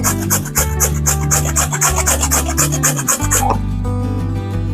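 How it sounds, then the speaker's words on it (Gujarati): Raw carrots are rubbed against a large-hole grater in quick, repeated rasping strokes, loud and close, before the scraping stops abruptly near the end. "એના વડે આપણે ગાજરને છીણી લેશું તો આવી રીતે આપણે ગાજરને છીણી લેવાનું છે"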